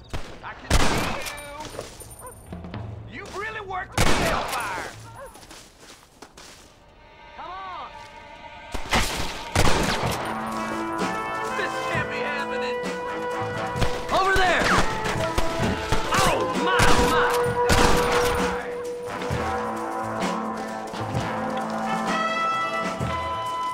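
Gunfire in Red Dead Redemption, with scattered sharp shots breaking through a busy game soundscape and talk over much of it; bursts come irregularly, some loud and close, others buried in the mix.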